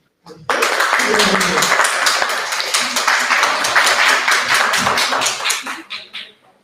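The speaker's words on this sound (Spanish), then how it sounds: "Un aplauso para usted." Applause from an audience at a legal training session on family and civil law, a dense burst of clapping that swells quickly, holds steady for several seconds, then thins out into scattered claps and stops.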